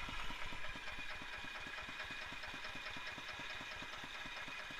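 A smoky diesel engine idles slowly and smoothly, a steady low knocking pulse with even, regular beats throughout, close and continuous with no talk.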